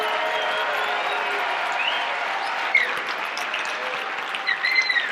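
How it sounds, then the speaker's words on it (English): Audience applause at a wealth seminar in an arena during a standing ovation, a steady wash of many hands clapping from a large crowd that holds level throughout, with a few brighter bursts near the end. "Give them a big round of applause, guys. Give a standing ovation."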